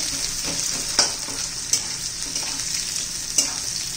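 Onions sautéing in a pan for soybean chilli, producing a steady close sizzle broken by a few sharp spatula scrapes and knocks against the pan, with no voices.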